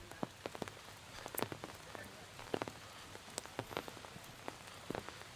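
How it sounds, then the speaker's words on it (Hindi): Rain falls steadily in Coorg, India, with scattered drops tapping sharply on a nearby surface, quiet and irregular, with no voices. "बारिश हो रही है, अभी भी पूरी रात बारिश हुई है भाई"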